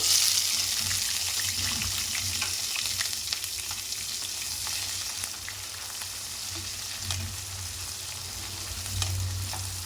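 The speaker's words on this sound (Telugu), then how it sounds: "ఇప్పుడు మనం పచ్చిమిర్చి ఆనియన్ 2 కలిపి ఒకటేసారి వేసేసుకున్నామండి." Green chillies and onion frying together in hot oil, giving a dense, even sizzle that holds steady and close with faint stirring ticks throughout.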